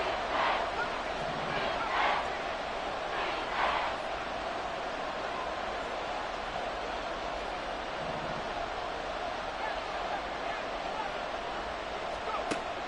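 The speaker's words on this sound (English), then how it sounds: "The Arrowhead crowd in full roar." A football crowd roars at Arrowhead Stadium during a third-down play. The sound is a broad, sustained crowd rumble with brief swells of cheering and is heard at a distance with no clear voices on top.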